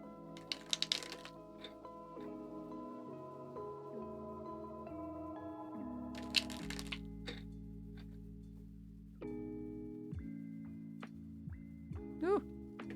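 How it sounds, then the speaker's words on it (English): Tarot cards being shuffled, heard as two short, crisp riffling bursts set against soft background music, with quieter taps and handling noises in between. "Couple more shuffles, because I was talking."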